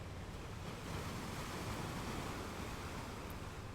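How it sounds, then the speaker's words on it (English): Continuous ocean surf rolling onto a shore, a dense, steady wash of broadband noise with no distinct individual breaks, heard alone at low level with some wind rumble. "The blue of the ocean and the white foam as it crashes onto the shore."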